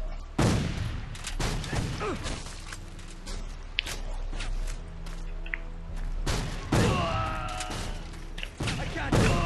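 Gunfire in the Civil War Secret Missions video game, with a Henry rifle among the weapons: a rapid barrage of loud, sharp shots and booms, some spaced and some clustered, with brief tonal game effects between them.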